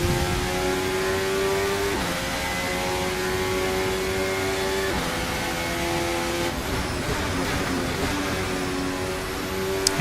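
A Ferrari race car runs nearby with a steady, strained engine note that climbs in pitch and drops back several times as it shifts gears, loud and continuous with no talking.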